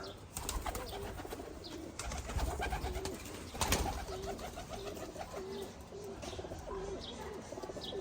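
Pigeons of the Turkish boğma and hünkâr breeds coo repeatedly in a loft, soft throaty calls recurring through a faint background hiss with occasional rustles.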